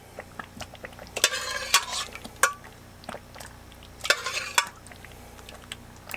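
Beef being stirred into a thick, reducing tikka masala curry in a pan aboard a narrowboat, with utensil scrapes and clinks against the pan over a low background hum, and two louder bursts of stirring and scraping.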